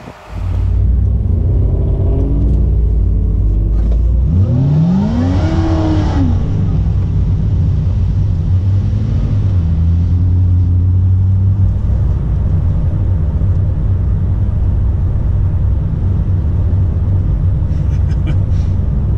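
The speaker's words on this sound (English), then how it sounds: "Warming up the tires." A Camaro SS engine rumbles loud and close, then revs up in a rising sweep and settles back to a steady growl while warming up its tires.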